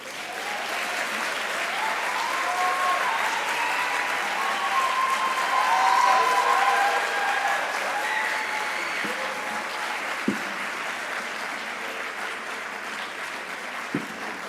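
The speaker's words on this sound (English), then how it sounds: "Let's give our student speakers another round of applause" Sustained applause from a large crowd rolls on steadily for the whole stretch, with a couple of sharper thumps near the end.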